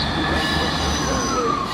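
A train arriving at a platform at Bristol Temple Meads station, with steady loud rumbling and high-pitched wheel squeal close by.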